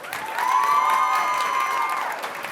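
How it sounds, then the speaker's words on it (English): Audience applause for a panel at a student summit on AI and journalism, a steady wash of clapping that swells within the first half second, holds, then tapers, with a long tonal whine running through it. "Big round of applause for these guys."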